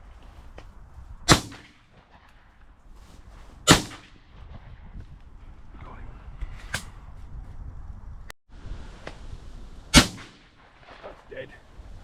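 Shotgun blasts ring out while hunting pigeons: four sharp, loud reports spaced several seconds apart, with quieter outdoor background between them.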